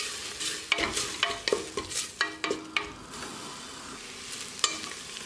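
Crushed ginger and green chilli sauté in a pan: repeated rhythmic scrapes of a spoon stirring, about a dozen strokes over a soft sizzle, then quieter frying with a final clink.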